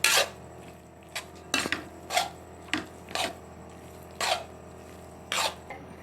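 Mamak-style mee goreng noodles tossed in a pan, separated bursts of scraping and clattering utensil strokes on metal, close and fairly loud, coming every second or so with quiet gaps between.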